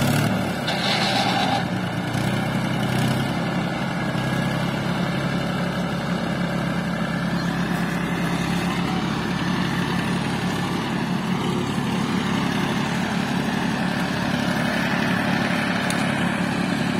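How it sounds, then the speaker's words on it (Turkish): A tractor engine runs steadily for the whole stretch while the driver struggles to reverse it, a continuous low, loud rumble with no speech over it. "traktörü geri geri kullanamıyor"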